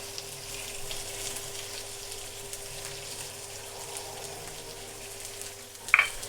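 Small steaklets fry in a hot pan with a soft, steady sizzle and crackle that runs throughout at low level, with a brief brighter clink near the end.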